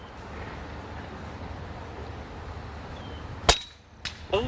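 An Uragan 2 air rifle shot strikes a target at 3.5 s: one sharp, loud crack over steady outdoor background noise, followed by two smaller clanks near the end.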